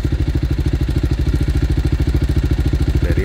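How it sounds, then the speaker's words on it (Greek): A BMW 310 GS motorcycle engine from 2020 idles close by with a steady, rapid thumping pulse, loud and continuous from start to finish. "Βάλουμε μπρος και το μηχανάκι."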